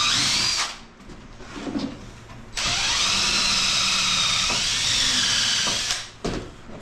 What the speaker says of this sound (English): they need to be pre-drilled